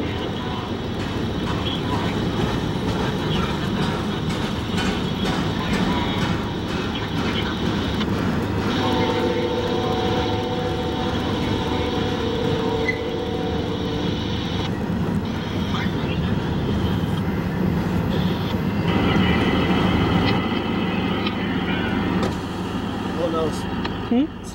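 A CSX low-nose freight locomotive rolls past on Conrail track, a steady rumbling drone with shifting metallic tones from the train, as people talk throughout.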